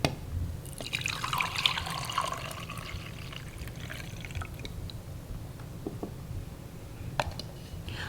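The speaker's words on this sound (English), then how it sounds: "I'm gonna pour both of these celery juice in here" Celery juice poured from a juicer into glasses: a quiet, steady liquid pour with trickling that tapers into occasional drips and faint clinks.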